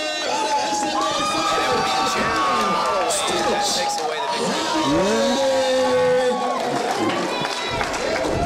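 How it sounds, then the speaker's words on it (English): Crowd at an amateur fight event cheering and shouting after the result is announced, a loud continuous roar of many voices with whoops and yells, with an announcer's voice over it. "nice round of applause for Kavin Sydalack."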